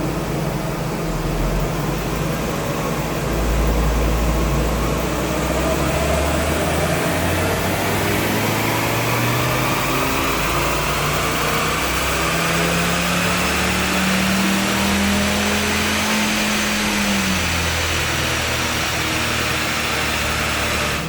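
Vauxhall Zafira 1.6 16V petrol engine, about twenty years old, revving on a dyno during a horsepower test, a steady loud drone whose pitch slowly rises and falls under heavy broadband roar, with no talk.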